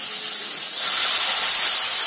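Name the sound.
little water added to frying spice paste, sizzling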